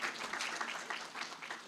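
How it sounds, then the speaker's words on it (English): An audience at the BSides Portland 2018 security conference claps in a steady, dense burst of applause that sounds fairly soft and slightly distant, lasting under two seconds without any speech over it. "That's the applause you get."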